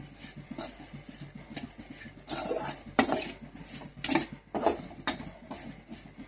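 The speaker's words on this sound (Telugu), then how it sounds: "ఇలా కొంచెం బ్రౌన్ కలర్ వచ్చే వరకు వేయించుకోండి." Grated coconut fries in a pan, the spatula scraping and tapping the metal in irregular bursts over a soft continuous sizzle, close and moderately loud.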